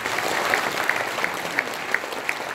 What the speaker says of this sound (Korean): 박수 한번 주시기 바랍니다